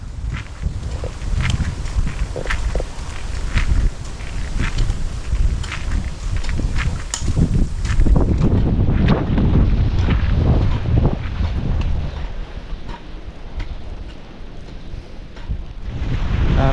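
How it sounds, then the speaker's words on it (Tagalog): Strong wind roars and buffets the microphone continuously, with gusty rumbling and scattered thumps throughout. "Ang lakas ng hangin."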